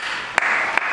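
Continuous dense crowd applause fills the whole second at a steady level, with two brief sharper claps or bursts standing out near the middle and end; no talking.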